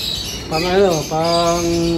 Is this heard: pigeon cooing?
yes